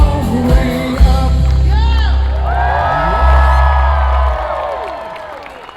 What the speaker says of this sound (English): Good clapping, good dancing.